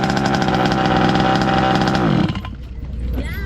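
Baja engine restarted after sitting unused for five years, idling with a loud, rapid buzzing putter for about two seconds before it is shut off and quickly dies away.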